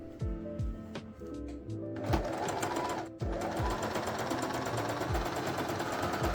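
Sewing machine stitching a seam on a cosplay glove, a close, rapid mechanical chatter in steady bursts with brief pauses and shifts in pace as stitching runs back and forth.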